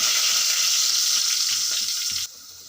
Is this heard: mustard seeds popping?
yes